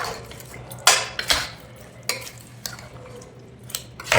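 Lung gravy stirred in a pan with a little oil, sharp metallic scrapes and knocks of a spoon against the pan over a low sizzle, repeated at an irregular pace.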